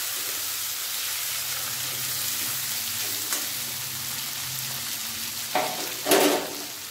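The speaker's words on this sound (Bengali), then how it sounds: "তেলের মধ্যে দেবো টমেটো কুচি, এর মধ্যে দেবো গ্রেট করে রাখা আদা।" Chopped tomato and grated ginger fry in oil for a vegetarian soybean dish, a steady, moderate sizzle that ends in a couple of louder scraping stirs, no talk.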